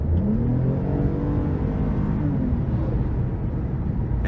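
A 2023 Toyota Camry TRD V6 accelerates with a steady exhaust drone, its pitch rising and falling through the pull, heard from inside the car with no talking.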